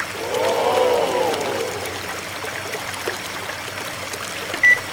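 Chocolate pushed by a water pump pours into a LEGO river, a continuous close trickling and gurgling flow with a brief high chirp near the start and no speech.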